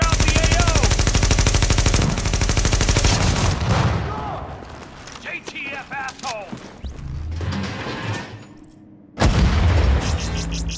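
Heavy gunfire in The Division, with rapid machine-gun bursts, booming blasts and mechanical clatter through a firefight, loud and dense, thinning to scattered shots before a sudden loud burst near the end.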